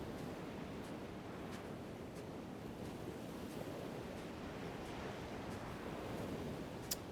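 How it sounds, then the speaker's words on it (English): Ocean waves washing in Elden Ring, a continuous broad wash of surf with faint soft swells and a little wind, steady and calm throughout with no voices. "And now just the silence, sound of the waves"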